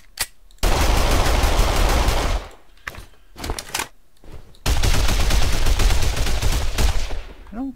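Automatic weapon fire in an Unreal Engine 4 video game: a long, loud burst of rapid shots, a gap with a few scattered single shots, then another sustained burst.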